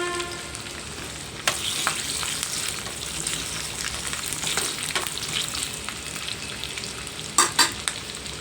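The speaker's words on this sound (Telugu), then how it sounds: "ఆయిల్ కాగిందండి, వెల్లుల్లి వేసుకుంటాను." Garlic dropped into hot oil for Andhra gongura pickle crackles into a steady, close sizzle, with a few sharp scrapes of a stirring spoon near the start and a quick cluster at the end.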